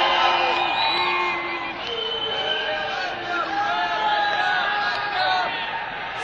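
A live audience cheers, whoops and applauds at a comedy show, a steady crowd roar with whistles and shouts carrying throughout.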